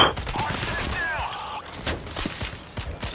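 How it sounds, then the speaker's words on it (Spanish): Dense bursts of gunfire fill a heist shooter game on a hard difficulty, with rapid overlapping shots and thuds. The shots sound close and then farther off, under excited talk from players. "qué pila tiros."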